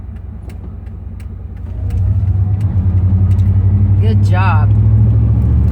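A car in road traffic rumbles steadily at close range, its low engine hum growing louder around the two-second mark and then holding, with someone talking briefly over it.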